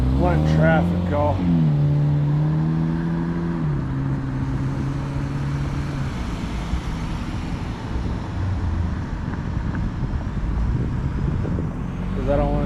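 Cars pass steadily along a roadway, with a continuous rush of traffic noise throughout and someone talking over it near the start.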